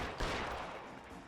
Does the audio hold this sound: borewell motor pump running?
no